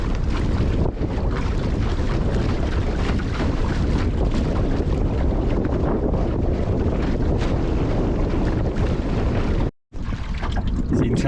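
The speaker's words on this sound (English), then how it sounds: "Little gust now, look. We're heeling a little bit." A sailboat heels in a gust on a lake. Loud, roaring wind buffets the microphone without a break over the wash of water, cutting out for a moment near the end.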